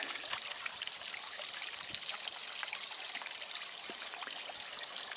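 A garden fountain trickles and splashes steadily, with a continuous bright hiss of falling water outdoors and no voices.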